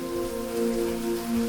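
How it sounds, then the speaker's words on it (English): Rain falls steadily in a continuous soft patter outdoors, with a persistent tonal hum running beneath it throughout. "it's raining."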